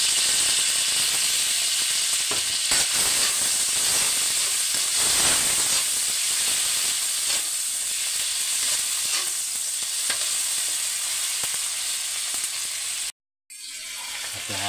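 Garlic, onion and tomato sautéing in a pan for ginisang upo with shrimp, a loud continuous sizzle and hiss with stirring scrapes throughout, nearby, cutting out briefly near the end.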